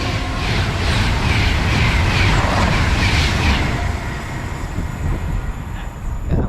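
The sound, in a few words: Pendolino train passing by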